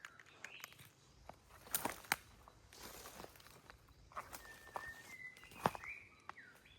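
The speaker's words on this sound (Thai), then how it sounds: "ได้ยินเสียงนกร้องไหม" Scattered bird calls and chirps in a forest, thin and fairly distant, heard over soft rustling and footsteps on leaf litter, with no talking.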